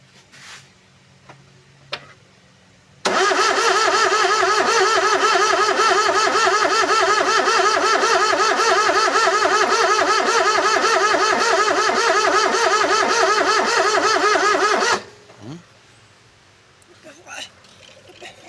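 Perodua Viva 1.0 car engine cranking steadily for about twelve seconds, a loud rapid rhythmic starter whir that cuts off abruptly, with quiet talk and small clicks before and after.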